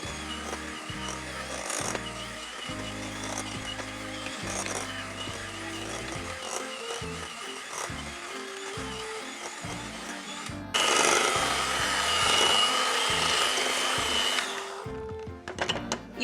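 An electric mixer creams vegan butter and sugar in a bowl, its motor whirring in uneven bursts and pitch changes, growing louder and harsher partway through before easing off at the end.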